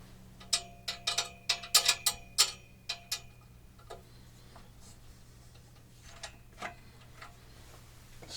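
Metal clamps on a Gibraltar gong rack are tightened with a quick run of sharp ratcheting clicks up close, then sparser ticks trailing off over a low steady hum.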